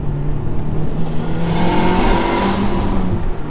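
Tuned Honda Civic FN2 Type R engine revving hard to around 6,000 rpm, a loud continuous rising engine note heard from inside the car, steady and alone without talk.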